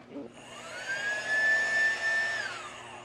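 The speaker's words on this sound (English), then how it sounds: "Let me see your vacuum. Show mom your vacuum." A small trigger-operated vacuum cleaner held by a child runs with a steady, whining motor hum and a rising and falling tone, with talk faint underneath.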